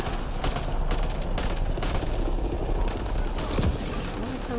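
Gunfire in the video game Mass Effect Andromeda: loud sustained bursts of automatic weapon fire with rumbling impacts throughout, no talk over it.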